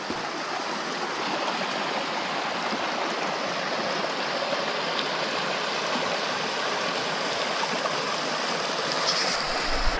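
Steady rushing and babbling of the Daronne stream in the Ardèche gorges, close and continuous throughout, with no voices.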